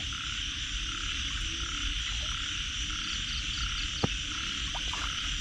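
Large egg-laden frogs croak in a dense, continuous chorus across a flooded rice field during heavy rain. The steady wash of rain runs underneath, with one sharp knock near the end and no talking.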